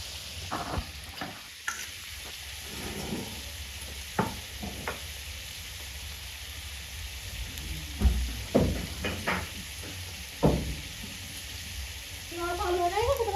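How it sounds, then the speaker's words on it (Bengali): Potatoes fry in a pan with a low, steady sizzle beneath intermittent clinks and scrapes of a utensil, and a voice speaks briefly near the end. "অল্প আলু ভাজা হয়ে গেছে তোমার?"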